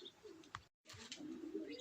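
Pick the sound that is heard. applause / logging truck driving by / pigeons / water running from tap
pigeons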